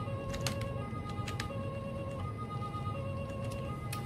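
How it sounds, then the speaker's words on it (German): A police car siren in the Autobahn Police Simulator video game wails steadily and fairly faintly for the whole stretch, with engine hum and road noise beneath it. "Wir machen die Sirene an"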